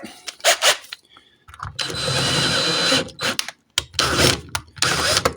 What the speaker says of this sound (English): Do the first drill.